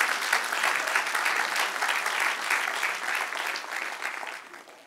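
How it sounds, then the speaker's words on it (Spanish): A congregation at a Bible doctrine class claps together, steady dense applause that holds loud and then gradually fades toward the end. "Dale un aplauso, Señor."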